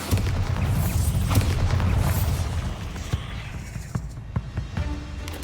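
A Bombarda spell explosion in Hogwarts Legacy sounds as a loud, booming rumble that gradually fades, followed by scattered smaller spell impacts and clicks.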